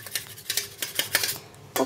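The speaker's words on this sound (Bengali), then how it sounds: "ভালো করে ঘুরাচ্ছি।" A utensil beating eggs in a bowl produces a rapid, rhythmic series of close clicking taps and scrapes, with a short pause before a final sharper clink.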